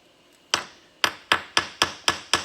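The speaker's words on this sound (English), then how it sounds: "Sometimes you can just break it loose by tapping it" Sharp taps of a Husky blade against a plastic surface to knock it loose, seven crisp close knocks, one lone tap followed by six in a quick, fairly even rhythm.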